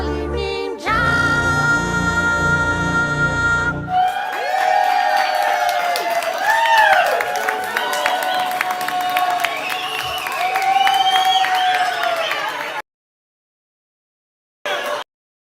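An audience breaks into loud, sustained clapping and cheering with whoops after a sung musical passage, the crowd roar holding for several seconds before cutting off.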